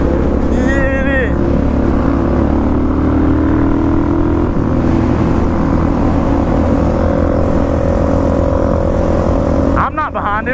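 Supermoto motorcycles roar loudly and continuously at a spring break ride, engines droning close by under wind noise, with a brief sharp burst near the end and voices talking over the din.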